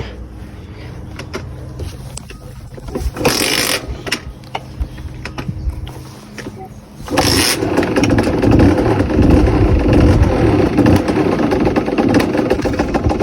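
A Fantic 70 moped engine, starter engaged, sputters and idles unevenly at close range, then revs up louder and rougher midway and keeps running steadily, with no speech over it.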